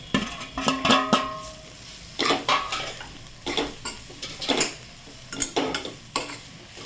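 Bitter gourd (karela) with homemade black masala is stirred in a pan, with a spoon scraping and clanking against the metal in irregular bursts over a soft sizzle.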